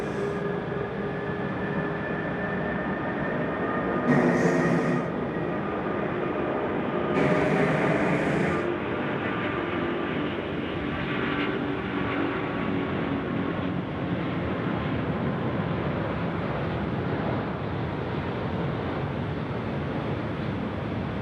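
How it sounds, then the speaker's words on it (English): Loud, steady roar of an Airbus A380's jet engines during a night takeoff at Sydney Airport, building and holding for a long stretch, broadband and rumbling, with no voices. "Now those A380s always sound really beautiful."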